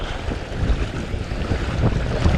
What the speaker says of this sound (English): just nursing the raft down these rapids